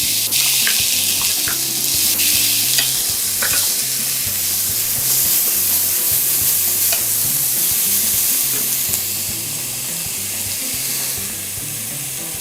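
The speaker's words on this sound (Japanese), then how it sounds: "オリーブオイルを熱して玉ねぎのみじん切りを入れます。" Finely chopped onion sizzles steadily in hot olive oil in a pot, a continuous bright hiss with occasional stirring scrapes and soft clicks, close and even throughout without talk.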